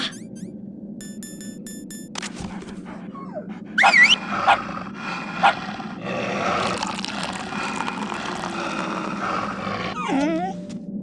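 In the Metal Gear Solid: The Twin Snakes video game, a dog gives sharp yelps and growling whimpers in short bursts over a low ambient game soundscape.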